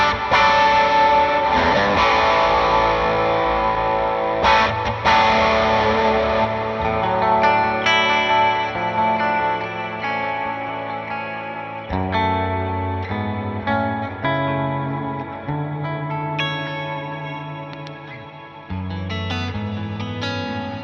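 Distorted electric guitar through York Audio Matchless amp impulse responses, strummed chords and riffs ringing loud with sustained crunchy tone and short pauses between phrases.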